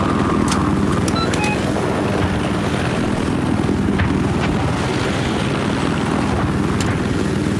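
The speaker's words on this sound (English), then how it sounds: "I have eyes on a hostile helicopter south of your position." Scout helicopter flying in the video game Battlefield 4: a steady, loud rotor and engine roar that continues throughout, with a few brief higher clicks and pings over it.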